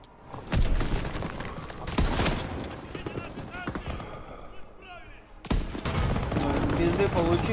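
Gunfire and explosions from the WWII shooter game Call of Duty WWII during an Ardennes battle: loud sharp bursts and booms repeat through the clip over a continuous battle din, with someone talking over the action.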